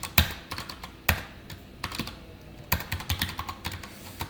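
Code being typed on a computer keyboard, close and clear, in irregular bursts of sharp clicking keystrokes with a few louder key strikes standing out and no talking.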